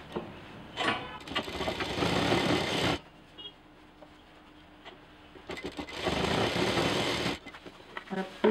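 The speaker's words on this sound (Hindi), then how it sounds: "और इसको हमें सिल देना है।" A sewing machine stitches D-loops onto a DIY backpack, running in two long, steady whirring bursts separated by a quiet pause, loud and close, with faint handling clicks around them.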